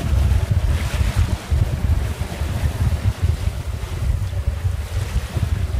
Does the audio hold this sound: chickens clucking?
no